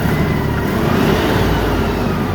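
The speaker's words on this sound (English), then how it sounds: "The engine is very smooth sounding." LS XR4145 tractor engine running smoothly, a loud, steady low mechanical drone heard close up without speech.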